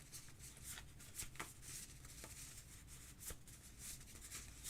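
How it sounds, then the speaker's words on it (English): A deck of cards gets a quick shuffle during a game selection show, a soft riffling rustle with a few sharp flicks lasting several seconds at low volume, with no talking. "So we'll give these a quick shuffle."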